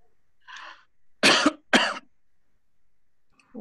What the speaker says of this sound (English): you seem to have a bad cough